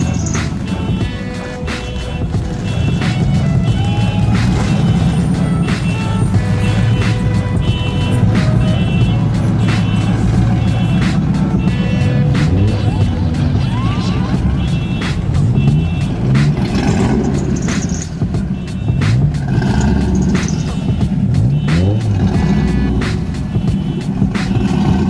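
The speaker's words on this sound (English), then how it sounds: "Turn on the car." A car engine is started and kept running at a cars-and-coffee meet, a loud, steady rumble with occasional revs and clicks close by.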